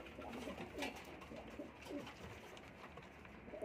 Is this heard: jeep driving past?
no